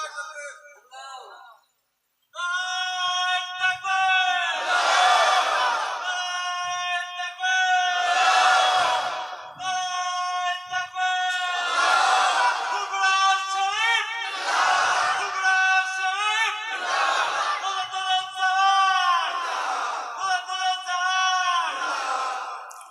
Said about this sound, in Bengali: তাকবীর দাও দেখি তুমি একটু